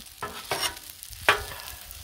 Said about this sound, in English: Scrape up off the griddle surface before it burns on there